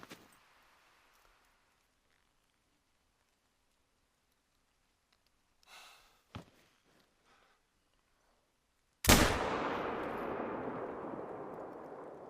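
A single loud rifle shot in the hunting game Call of the Wild: The Hunter, fired at a bear, a sudden sharp crack with a long rolling echo that fades slowly, preceded by a few faint soft sounds.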